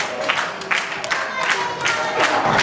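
A wrestling crowd at a Genesis Pro Wrestling show cheers and claps just after the bell. The noise is a steady, close roar with bursts of applause swelling through it.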